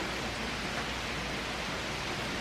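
Steady rain falls in an even, unbroken hiss at moderate volume, with no voices or other distinct sounds.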